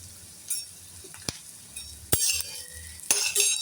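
Fenugreek leaves with turmeric and green chillies are stirred in a pan, a spatula scraping and clinking against the metal in a few sharp bursts over a soft sizzle, close up and without speech.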